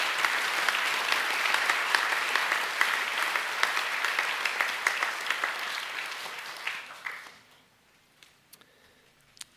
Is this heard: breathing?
no